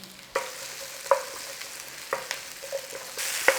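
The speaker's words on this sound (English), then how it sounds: "Just a little stir fry on there." Vegetables sizzle steadily in a hot pan for sweet and sour, with scattered sharp clicks and scrapes from stirring and a brief louder burst near the end; no one speaks.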